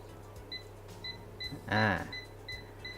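UNI-T UT203+ clamp meter in non-contact voltage mode gives short, sharp electronic beeps repeating about every half second, with a brief voice speaking in the middle.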